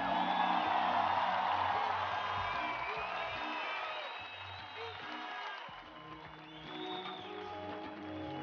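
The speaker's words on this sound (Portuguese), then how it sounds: "O reconhecimento, o aplauso de vocês pro elenco do espetáculo." A concert audience at a Clube Lux show applauds and cheers the cast, a broad wash of clapping and whoops beneath a voice addressing the crowd over a low musical backing.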